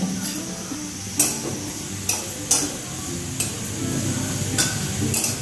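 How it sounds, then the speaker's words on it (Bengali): Spices are stirred in a dry pan, a spatula scraping and tapping at intervals over a faint, steady crackle, close by with no speech. "শুকনো খোলায় একটু ভেজে নিচ্ছি"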